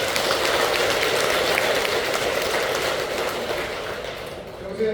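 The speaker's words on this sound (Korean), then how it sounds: "황해사에서 함께 하시는 모든 분들께 감사의 박수를" Temple congregation at a regular Buddhist dharma service applauding in thanks, a broad sustained wash of clapping from a large gathering in a hall that gradually tapers off.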